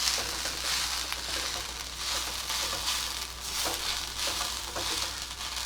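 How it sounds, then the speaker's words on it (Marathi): Coconut masala paste roasting in a pan for a soya chunks curry gives a soft, steady sizzle and crackle, fairly quiet and continuous with occasional faint scraping, no voices. "नारळ पण छान गुलाबी होईपर्यंत आपल्याला हे वाटण भाजून घ्यायचं"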